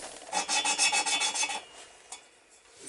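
An XS650 motorcycle engine valve is lapped into its seat with coarse grinding compound, giving a rapid rhythmic gritty rubbing of about ten back-and-forth strokes, close and fairly loud, then a pause and a faint scrape.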